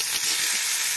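Spices with turmeric, salt and tomato frying together for a village-style chicken curry cooked on a boat, a loud continuous hiss and sizzle close up, with no talking.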